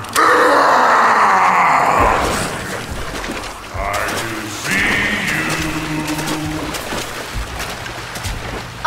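Zombies growl and groan in Call of Duty: Black Ops on the Call of the Dead map, loud and close at first, then weaker, drawn-out moans under game noise.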